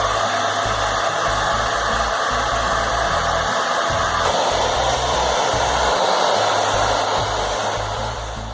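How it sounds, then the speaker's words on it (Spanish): Hot air gun blowing hard onto a bike chain to melt candle wax into the pins, a loud, constant close-up whooshing blast with a low motor hum running unbroken, no speech. "Utilizamos un secador de aire caliente que dé bastante fuerza y donde hemos reencerado, pues derretimos ahora la cera para que entre bien en los bulones"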